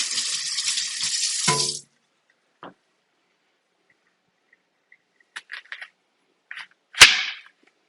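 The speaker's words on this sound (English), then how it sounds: "I got to rinse the knife too" Tap water gushes into a kitchen sink while a knife is rinsed, a steady splash lasting under two seconds before the flow stops, followed by a few sharp clicks and clatters of the knife and sink, close and clear.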